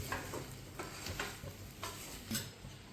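Fried mutton pieces stirred in a pan, with a steady sizzle under repeated scraping strokes of a spoon against the metal, close up and alone.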